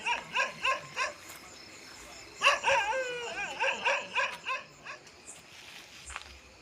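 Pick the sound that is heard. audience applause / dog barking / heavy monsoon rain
dog barking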